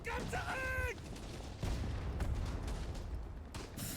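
Mortar fire in the World War I shooter Verdun: two heavy booming blasts land a couple of seconds apart. They sound muffled and fairly distant beneath low game ambience, after a brief high whistling tone at the start.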